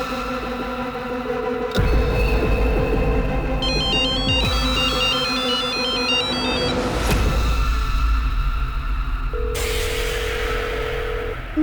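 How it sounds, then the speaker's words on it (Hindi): A mobile phone rings behind a locked door, its electronic ringtone melody repeating loudly and steadily with no one answering, over a low background hum. "फोन अंदर बज रहा है और मैडम जवाब भी नहीं दे रही है"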